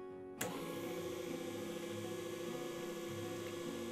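A small electric motor powered from a bench supply switches on abruptly and then runs at a steady, even whine with a constant buzzing hum, close and alone.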